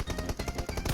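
Rapid automatic gunfire in PUBG Mobile, a steady run of about nine close, loud shots in quick even rhythm, with no talking.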